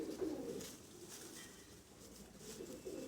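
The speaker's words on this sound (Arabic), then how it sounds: "ادي اهو فرد الحمام" Pigeons cooing close by in a loft on a summer day, soft low repeated coos over a faint background hiss, no talking.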